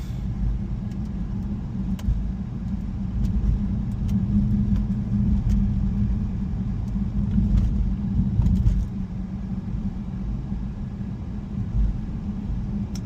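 A BMW i3 REX electric car pulls away, a steady low road rumble and drivetrain hum holding at moderate level throughout with light ticks above, no voices.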